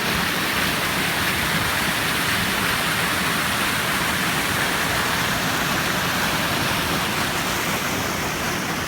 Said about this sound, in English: this is a little cascade, well, actually a reasonably big cascade.